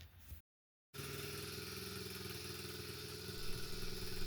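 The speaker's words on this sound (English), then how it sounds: "Alright, so we got the engine running here, as you can hear in the background." An SSR 70C dirt bike engine idling with an exhaust leak, a steady mid-pitched chugging drone after a brief dropout, running continuously and swelling slightly louder toward the end.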